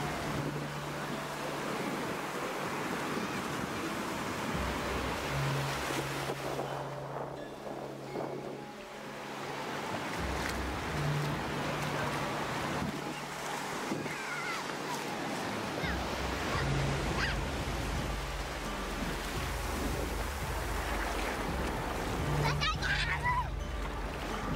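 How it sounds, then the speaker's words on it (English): Ocean waves at the beach in Kuta, Bali, rolling surf in repeated washes under steady wind noise on the microphone, moderately loud and close. "I love walking at the beach and catching the waves to get myself wet."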